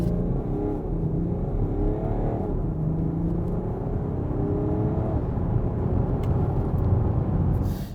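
A 2021 BMW X5 luxury SUV accelerates hard from 0 to 100 km/h. A steady, loud engine roar and road rumble hold throughout, with rising tone as it builds speed and no talking.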